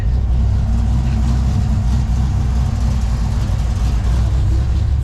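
A Ford Capri engine, just fixed after a failing fuel pump, idles smoothly and evenly, a steady low rumble that stays loud and constant with no talk over it.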